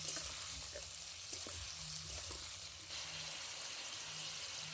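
Gourd stems fry in a pan with a steady hissing sizzle, punctuated by a few soft stirring knocks, close and continuous with no talking.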